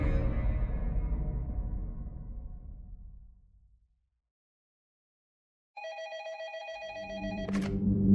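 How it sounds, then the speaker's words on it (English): An office telephone rings in a short electronic trill after a low rumble dies away into silence, the bright tone sounding close and clear before other noise returns. "when his phone rang"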